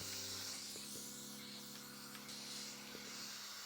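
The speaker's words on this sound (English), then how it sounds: "So I'm just going to hairspray it." Hairspray misted onto a 19th-century style hairdo, a faint continuous hiss under a low steady hum and background noise, no speech.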